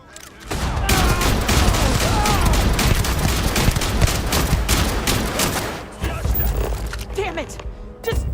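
Heavy gunfire in the video game Starfield, with dense overlapping shots and bursts that roll on almost without pause for eight seconds, loud and close, with a short dip near the end before the firing resumes.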